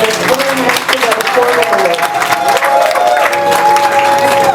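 A wedding congregation applauds and cheers in a sustained, dense wash of clapping with crowd voices and singing woven through, loud and continuous for the whole stretch.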